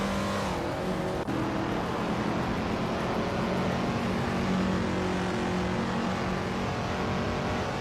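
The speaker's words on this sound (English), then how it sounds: "Lazy Towner is driving a 1971 Nissan Skyline 2000 GTR and is currently in 10th place." A 1971 Nissan Skyline 2000 GTR races in a video game, its engine a steady, continuous loud drone with slight pitch shifts, filling the whole stretch with no talk.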